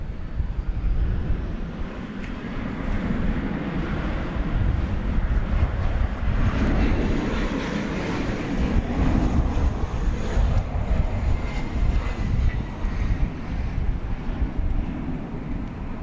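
Embraer 175 regional airliner on the runway at DFW Airport, its engine roar a steady, broad rumble with wind buffeting the microphone, continuous and fairly loud for the whole stretch, no talking.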